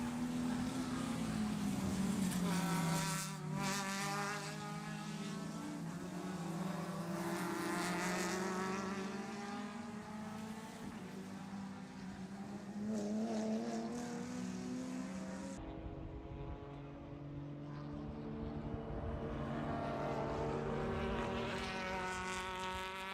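A BMW and a Toyota Supra race at Sebring during an endurance event, engines roaring loud and steady with pitch rising and falling through shifts; the tone changes abruptly partway as the cars pass.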